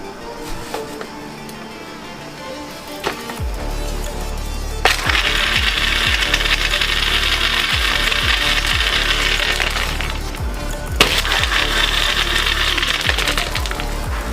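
A kitchen blender churns milk and broken KitKat bars for a chocolate milkshake, its motor roaring steadily across two long runs with repeated knocking and rattling from chunks inside the jar, no talking.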